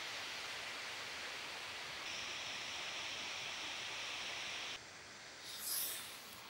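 An Icelandic waterfall gives off a steady, broad rushing roar, even and continuous, shifting slightly in tone partway through, with a faint swell near the end and no voices.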